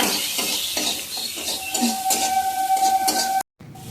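Potatoes cooking in a pan after chili powder is added, a close steady sizzle with repeated scraping stirs and clinks of the utensil, then an abrupt cut to near silence at the end.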